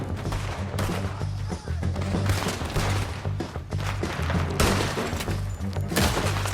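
Sustained gunfire in Red Dead Redemption 2, a dense fusillade of overlapping shots with heavy low booms, continuous and loud for the whole stretch.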